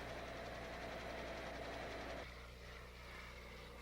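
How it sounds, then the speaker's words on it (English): Motor of a helicopter gunship in flight, a loud, steady droning roar that holds evenly and then dips slightly in level partway through, with no voices. "Aboard the gunship, the noise of the motor, which was loud,"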